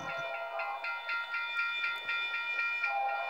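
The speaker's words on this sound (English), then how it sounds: "Choo-choo, choo-choo." A train sound effect with repeated rhythmic clacking wagon beats and faint whistle-like tones runs steadily and fairly loud, with no one talking over it.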